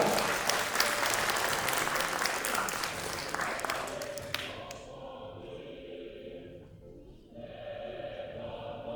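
Loud audience applause at a children's contest in Bulgaria, a dense burst of clapping that fades out over a few seconds, leaving a quieter room.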